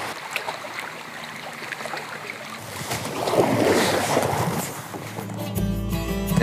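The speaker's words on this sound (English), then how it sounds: "you can mix it up with some paddling right on Flagstaff Lake" Paddling on Flagstaff Lake in Maine brings soft water sloshing and paddle splashes, with a louder swell of water noise midway and a low rumble toward the end, moderately close outdoors.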